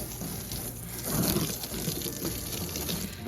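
Warm water gushes and splashes steadily into a frozen pig trough caked with dirty hay, a continuous close pour with no talking.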